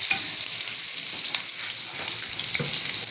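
Native chicken curry ingredients sautéing in a pan over a wood fire, with fish sauce added, giving a continuous dense sizzle and frying hiss with faint stirring scrapes, close and steady without talk.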